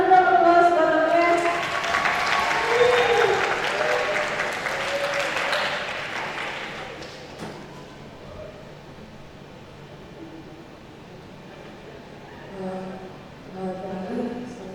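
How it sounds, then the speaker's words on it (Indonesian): An audience at a university entrepreneurship guest lecture breaks into loud applause that fades away after several seconds. Scattered voices and room noise follow. "Tepuk tangan dulu dong"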